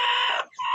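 A turkey hen gobbling in the distance on a farm, a steady bird call with a brief dip midway, heard alone without talk.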